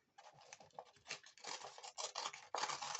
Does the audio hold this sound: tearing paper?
yes